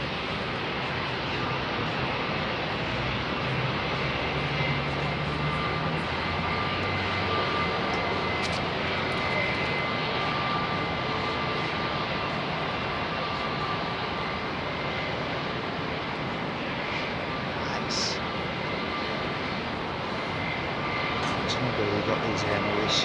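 An Air Mauritius airliner taxis at London Heathrow on a busy evening, its engines a steady, broad roar that holds through the whole stretch without fading.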